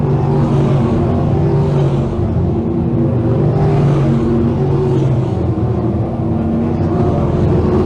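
Several 602 crate sprint cars race on a dirt speedway at Can-Am Speedway, a continuous loud engine roar with harmonic drones swelling and fading as the pack sweeps through turns three and four, steady throughout with no talk.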